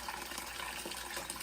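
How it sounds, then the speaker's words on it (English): Water rushing out of the bottom of a steam heating boiler, a steady, broadband gushing hiss with no pauses, fairly quiet and heard alone. "once a month, you need to take some water out of this boiler during the heating season"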